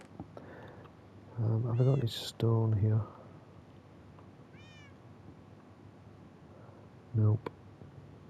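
Cat meows in the Minecraft video game, several distinct mewing calls in short bursts with pauses between, mixed with a man's speech and light clicks.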